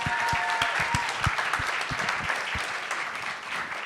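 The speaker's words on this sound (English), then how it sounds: "Big round of applause." Audience applause at a documentary awards ceremony, a dense steady wash of many hands clapping throughout, with a few sharp claps standing out near the front.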